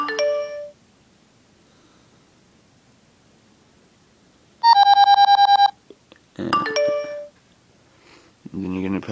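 Several short iPhone 4 ringtone melodies play one after another with quiet gaps between, bright chiming tones, the last one ending in lower notes.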